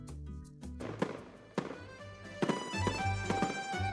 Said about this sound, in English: The sound of each fiery flower bursting in the night is deafening